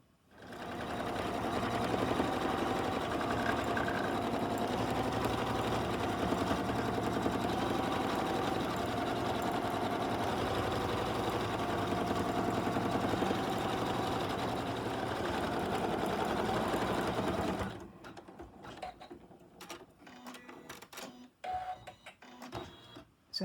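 An embroidery machine stitches quilting on an in-the-hoop tissue case with a steady, fast mechanical chatter for about seventeen seconds, then stops, leaving faint handling clicks.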